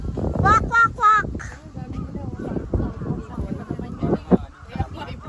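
Birds give goose-like honks, loud nasal calls in quick bursts near the start that return at intervals, with people talking throughout.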